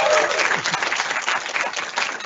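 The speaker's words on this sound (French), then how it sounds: "Même les enseignants s'applaudissent, non?" An exhibition audience gives the teachers a short burst of dense, lively applause, close and continuous throughout.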